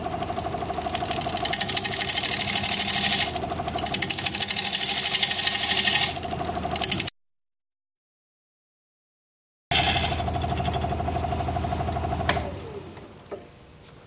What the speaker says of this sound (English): And back to a more modern spindle gouge, half inch.